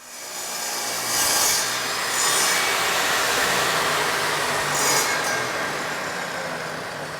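A jobsite table saw whines steadily as it crosscuts wood, a loud sustained buzz with slight swells, close by and with no talking.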